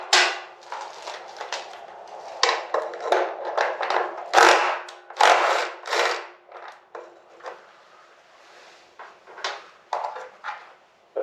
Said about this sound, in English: I'm going to go ahead and pull the flywheel cover off